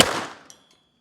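A single sharp .380 caliber shot from a TH-838 pistol fired into a cow femur, loud and close, with a sudden crack that decays quickly, followed by a faint ringing tail.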